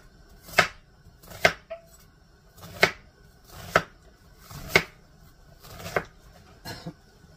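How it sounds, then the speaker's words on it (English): A knife dicing an onion on a cutting board: about eight distinct, close chopping thuds spaced roughly a second apart, with quiet gaps between; no talking. "We're going to get it all diced up"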